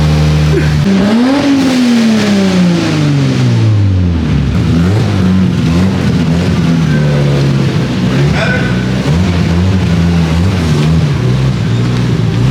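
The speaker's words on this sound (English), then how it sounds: "God damn, the turbo sounds sick." A turbocharged car engine revs loud and close, its pitch sweeping up then settling into a steady drone, with people talking over it at a car meet.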